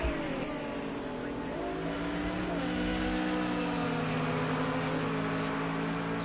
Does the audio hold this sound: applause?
no